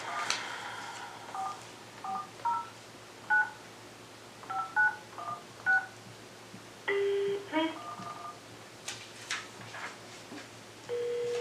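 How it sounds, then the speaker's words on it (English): Telephone keypad tones being dialed to call a city official during a city council meeting, a quick irregular run of short beeps followed by a couple of longer tones, with faint room talk underneath. "let's get Tyler on the phone"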